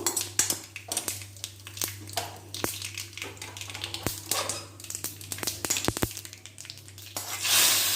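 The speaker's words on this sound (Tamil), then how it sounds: "எண்ணெய் ஊற்றி கொஞ்சம் கடுகு பொரிஞ்ச உடனே ஒரே ஒரு காஞ்ச மிளகாய் போட்டு, கடுகு நல்லா பொரிஞ்சதும்" Mustard seeds splutter and pop in hot oil with a dried red chilli, tempering for a brinjal and cowpea sambar. Sharp crackles burst irregularly over a steady close sizzle, and the hissing swells louder near the end.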